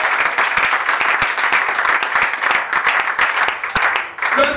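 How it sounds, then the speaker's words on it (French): Rhythmic congregational clapping at a church service, many hands beating together in a fast, loud, steady pattern with crowd noise underneath. "Applaudis pour le Saint-Esprit."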